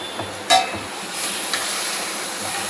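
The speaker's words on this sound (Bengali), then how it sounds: "এদিকে আলুটা আমার ভালো করে কষানো হয়ে গেছে।" Potatoes with spices sautéing in oil in a pan give a steady, fairly quiet sizzle and hiss, with a brief louder burst of crackle near the start.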